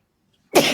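A single short, explosive sneeze bursts out of near silence, close and fairly loud.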